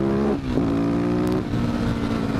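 A motorbike engine revs and accelerates close by, a steady loud drone with gear-like pitch shifts and brief dips, no voices over it.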